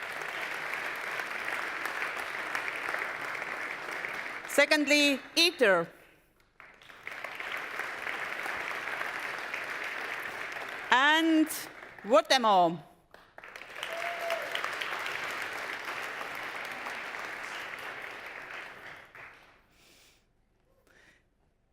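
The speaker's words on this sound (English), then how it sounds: "Please applause." A pitch competition audience gives three long, sustained rounds of applause, with a speaker announcing names in the short breaks between them before the last round fades out.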